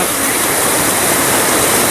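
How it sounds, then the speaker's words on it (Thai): Water pours strongly over the Kaeng Ka Lao waterfall, a loud, dense and steady roar close by with no talking. "น้ำไหลแรงมาก"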